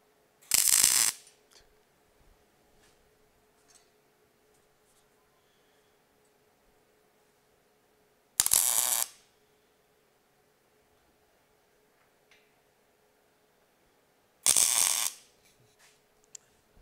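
Three short, loud bursts of tack welding as a gusset is fixed to a headache rack, each crackling burst under a second long, separated by long quiet gaps with faint shop hum.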